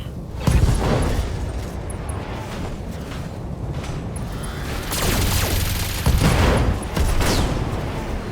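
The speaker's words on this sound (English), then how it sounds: "Mech explosions." Mech explosions in the BattleTech video game, a heavy barrage of booming blasts and gunfire-like bursts with two louder surges, dense and continuous throughout.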